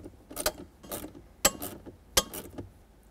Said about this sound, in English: Now we just have to put in the two mounting screws.